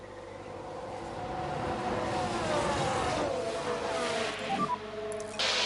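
F1 race car in the pit lane at Paul Ricard in F1 Manager 22, engine note rising and sliding in pitch as it passes fairly close, a steady loud mechanical drone with a brief shift near the end.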